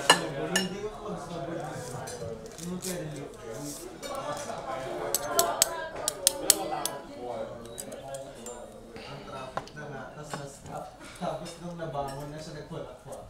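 Metal spoons clinking against ceramic plates while serving Chinese dishes in a Chinatown restaurant in New York City, light irregular clatter and chinks throughout, under someone talking.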